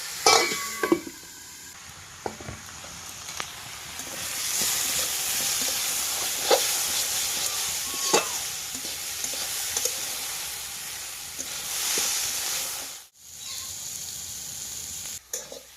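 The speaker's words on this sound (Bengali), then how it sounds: "বন্ধুরা আমার কিন্তু ওলকপি আর গেঁচো কাঁকড়া ভাজা কিন্তু হয়ে গেছে" Kohlrabi and small river crabs fry in a pan with a continuous loud sizzle, and a utensil clinks and scrapes against the metal at scattered moments; no one speaks.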